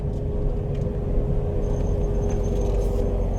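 A C7 Corvette rumbles through a quick low-speed circle, a steady, close, deep engine drone with no talk.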